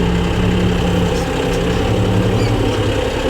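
A tractor engine runs steadily and loudly at close range while pulling a cultivator sunk into the soil, a constant low rumbling drone with no change in revs.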